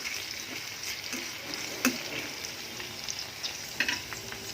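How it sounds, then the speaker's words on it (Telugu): Light frying sizzle crackles steadily as bitter gourd pieces fry in a pan, with a couple of sharp clinks of a spatula stirring. "ఇలా లైట్గా ఫ్రై చేసుకోవాలండి"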